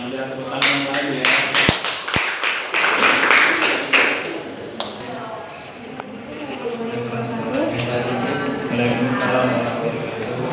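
A short burst of clapping from a small group, sharp claps in the first few seconds, followed by people talking.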